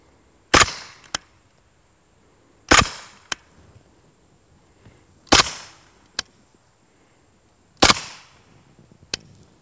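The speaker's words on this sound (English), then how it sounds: "I'm going to put a few of these rounds over here in the dirt, just so you can hear how quiet they are" Four quiet shots from a Kalashnikov USA KP9 blowback pistol fired into a dirt berm outdoors, each a sharp crack followed by a smaller click, evenly spaced with stillness between.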